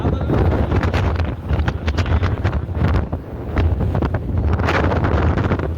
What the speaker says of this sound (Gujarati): તમને પવનમાં કાંઈ જાજુ સમજાય નહીં, પણ પવન બહુ છે.